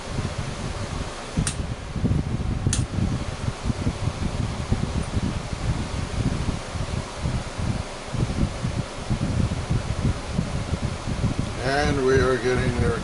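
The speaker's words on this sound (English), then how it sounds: "It's blowing air real good." A freshly repaired window air conditioner in the desert blows air in a steady, rushing whoosh with fluttering rustle. The sound is close and continuous, and a voice comes in briefly near the end.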